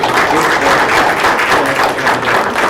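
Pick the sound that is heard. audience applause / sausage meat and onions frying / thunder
audience applause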